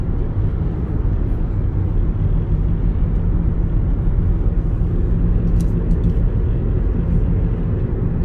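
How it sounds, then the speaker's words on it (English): Steady broadband rumble of a car moving through congested highway traffic near the Belt Parkway, a continuous close road roar with no breaks and no talking. "Can you see the traffic ahead of me? I'm driving next to the highway."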